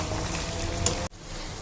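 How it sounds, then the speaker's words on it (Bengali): Mutton kala bhuna stirred in a pan over high heat gives a steady close sizzle and frying hiss, which cuts off abruptly near the end before a quieter simmer resumes. "এবার হাই হিটে এটাকে ভালো করে মিশিয়ে নেব।"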